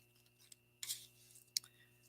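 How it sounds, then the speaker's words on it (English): Scissors snip through a piece of paper on a desk in a quiet room, two or three short crisp cuts with faint handling rustle between them and a steady low hum behind. "we'll just use scissors. It'll be all right. We're going to cut that piece off right there."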